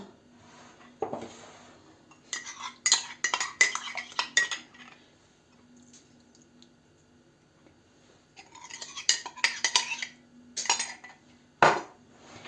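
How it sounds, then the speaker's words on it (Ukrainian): A spoon scrapes and clinks against a bowl while sugar is rubbed into egg yolks, in two bursts of busy rhythmic clatter separated by a quieter pause. "Це розтираємо цукор жовтками отако."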